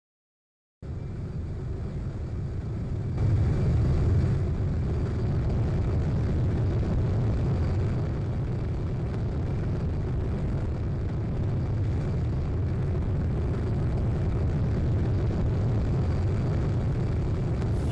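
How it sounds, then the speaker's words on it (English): Twin-boom swept-wing aircraft flying in the Roblox game Plane Crazy, giving a steady, loud engine drone with a broad rushing roar that continues throughout without any talk. "It is a twin boom style sweep wing aircraft."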